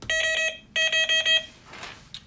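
Delkim TXI Plus fishing bite alarm set to maximum sensitivity, giving a quick run of sharp electronic beeps: one longer tone, then several rapid pulses, followed by faint handling noise.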